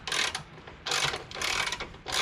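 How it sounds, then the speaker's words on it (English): A wrench ratcheting on a 14mm torque mount bolt of a Honda Integra: three bursts of rapid, close clicking separated by short pauses, with no voice over it. "there's a bolt each side, 14mm. Give it a fair wrench, it'll come off."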